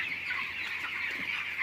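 Broiler chickens on a poultry farm cluck steadily as a dense, continuous flock chorus, moderately loud, with overlapping calls throughout and no talk.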